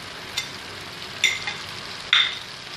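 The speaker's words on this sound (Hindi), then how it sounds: "अब इसमें हरी मिर्च डालें।" Green chilies go into a hot frying pan for ginger chicken, giving a steady sizzle with three sharper crackling bursts as they hit the oil and are stirred.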